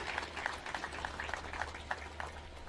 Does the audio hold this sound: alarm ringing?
no